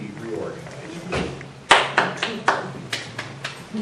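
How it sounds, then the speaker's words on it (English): Applause from a rural British Columbia all-candidates meeting audience, scattered handclaps rising to a few loud, separated claps near the mic with room noise and a faint murmur of talk. "Don't feel you have to stop clapping."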